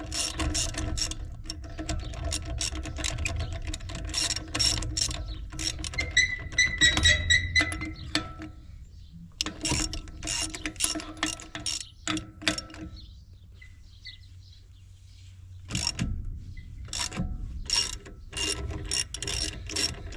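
A ratchet wrench clicks in rapid bursts while loosening the lug nuts on a trailer tire, the pawl chatter repeating loud and close with short pauses between turns.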